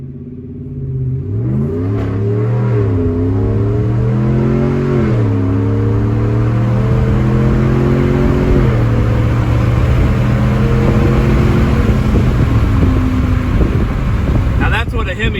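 A 5th-generation Ram 1500 Hemi V8 with a Borla ATAK exhaust, heard from inside with the windows down, rumbles deeply as it accelerates through several gear shifts, its engine note rising and dropping steadily and loudly throughout.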